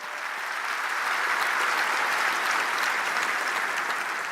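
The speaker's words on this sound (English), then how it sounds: "Round of applause for them" Applause from a large keynote audience fills the hall as a dense, even wash of clapping, steady and sustained for several seconds with no voices over it.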